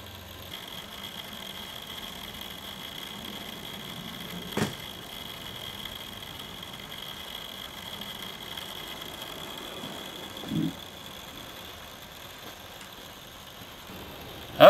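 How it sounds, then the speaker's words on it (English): A simple homemade three-part electric motor runs with a steady, faint high whine over a low hum, broken by a few brief clicks. "slide this over the top, like such, and voila, the world's simplest motor"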